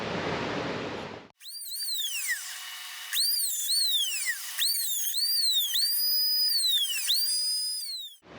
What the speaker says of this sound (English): now I can go over to the router and actually finish it off